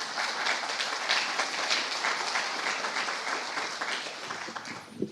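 An audience at a public sector innovation event applauds as a school director walks to the stage, a dense steady round of clapping from a crowd that thins out near the end.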